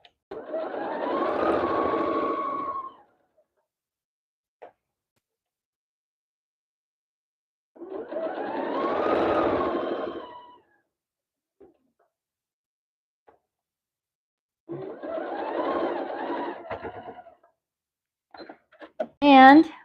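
A sewing machine runs in three separate bursts of stitching across a quilt, each lasting a couple of seconds with quiet gaps between, close and moderately loud.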